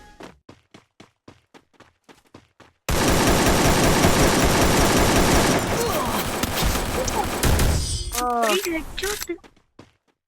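AK-47 fire in the Free Fire Max battle game: a few spaced single shots, then a long loud sustained automatic burst lasting several seconds before ending in a scatter of impacts and separate shots.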